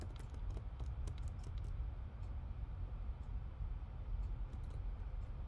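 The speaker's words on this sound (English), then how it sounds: "then I'll type total number of heads" Light clicking of fingers typing on a computer keyboard while text is entered into a spreadsheet, faint and scattered over a low steady background hum.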